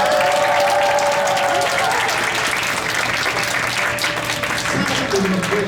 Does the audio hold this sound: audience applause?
yes